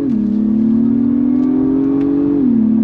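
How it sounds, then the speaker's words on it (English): A 2023 Acura MDX Type S sport SUV accelerates hard on throttle, its engine note rising steadily and loud close up, dipping briefly as a paddle shift comes near the end, with no talking. "On throttle, here we go."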